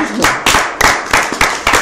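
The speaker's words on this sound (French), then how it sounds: "on applaudit quand même" A small group clapping, giving a few short, separate bursts of hand claps in an uneven rhythm, fairly close, with a voice faintly present.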